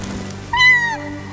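A single clear cat meow, a rising then falling harmonic call lasting about half a second, heard fairly close over a low background hum with no talk.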